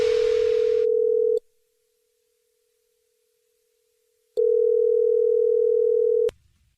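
A steady telephone tone sounds, cuts off into silence for a few seconds, then returns and stops again.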